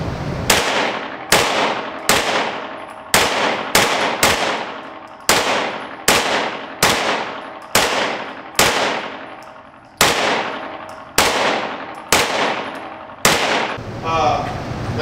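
Close, loud shots from a STRIBOG SP9A1 Gen 2 9mm carbine fired through a final magazine, about fifteen sharp reports in an uneven semi-automatic rhythm with short gaps, each ringing out briefly before the next.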